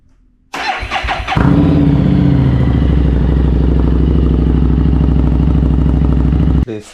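A motorcycle engine fires up after a brief clatter, then settles into a loud, steady, deep exhaust rumble held close by, cutting off abruptly near the end.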